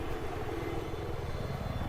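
A helicopter in a video game gives a loud, steady rotor and engine roar that fills the short stretch without any break.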